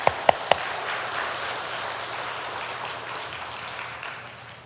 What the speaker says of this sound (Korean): 우리 하나님께 영광의 박수를 한번 올려드리겠습니다.